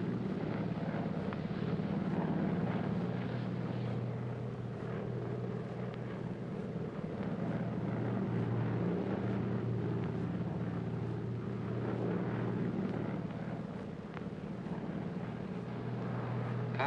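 Airplane cabin noise in flight in a 1948 film, a steady low droning engine rumble with airy hiss, constant and unbroken, no talking.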